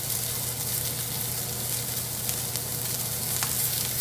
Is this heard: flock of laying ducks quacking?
no